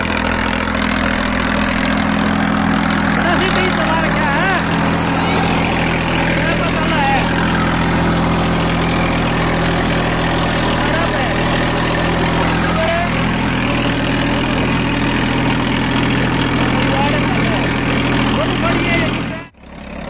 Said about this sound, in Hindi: फील्ड मार्शल का 8 फुट का सुपर सीडर चल रहा, ऑल इन वन मॉडल है जो अपना स्वराज 960 है।